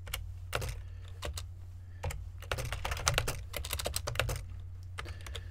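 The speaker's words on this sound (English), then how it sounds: "can't type today." Rapid computer keyboard typing in uneven bursts of clattering keystrokes, close and fairly quiet, over a steady low hum, with no talking.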